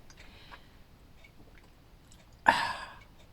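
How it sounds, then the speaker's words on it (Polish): Yerba mate slurped from a jar, faint small mouth noises leading to one sharp, close slurp near the end that fades quickly. "I teraz siorbię yerbę."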